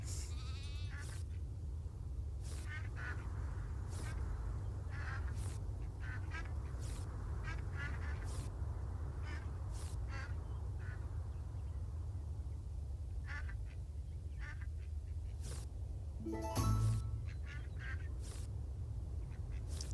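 Ducks in the farming video game Farm Together 2 quack repeatedly in short, loud bursts over a steady background hum.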